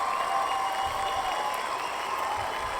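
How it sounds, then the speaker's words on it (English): Canned cheering and applause sound effect played over a podcast, a steady crowd clapping and cheering for a few seconds at moderate level with no talk. "I'm a little late on my drum roll or my cheering"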